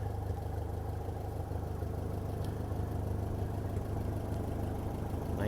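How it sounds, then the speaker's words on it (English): An old 1954 tractor engine idles steadily, a low, even rumble with a constant hum and no speech over it. "Finally got the old tractor started."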